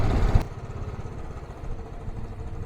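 A motorcycle engine, started for a mountain bike trip, catches with a brief loud burst and then settles into a close, uneven idle putter.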